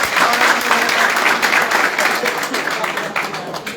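Loud, dense applause from a crowd greets a new member joining the BJP at a party event in Jammu and Kashmir, continuous and close for the whole stretch.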